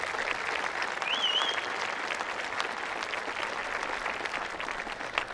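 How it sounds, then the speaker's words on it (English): At St. Anthony Village High School's 2025 graduation, an audience gives sustained, even crowd applause for the graduates' supporters, with a short bird-like whistle early on and no talking. "join me in a round of applause for all of those who have supported you"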